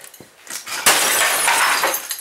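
A hammer smashes computer monitor glass with a sharp smash, followed by a sustained shattering crackle and tinkling that trails off, loud and close, with no voices.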